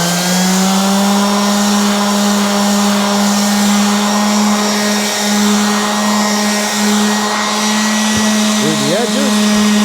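A power sander works wood with 220 grit paper for a final polish, a steady loud droning hum holding an even pitch throughout, with a brief wavering pitch shift near the end.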